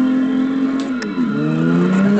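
A Lamborghini 5.2 litre V12 engine revving hard and loud and close, its pitch dropping briefly between gears before climbing again in one sustained run.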